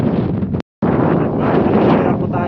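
Strong wind roars and buffets the microphone at sea aboard a small fishing boat in rough weather, loud and continuous, with a brief dropout to silence.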